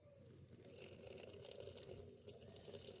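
Water running out of a cleared drain on a 2007 Mercedes-Benz and hitting the ground below, a faint continuous trickle and splatter with soft dripping, heard from a distance.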